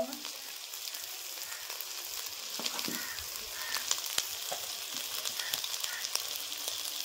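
Ground turmeric and chili powder frying steadily in a pan for a spicy Sitapati fish curry, a continuous crackling sizzle with occasional stirring clicks, heard alone at moderate level.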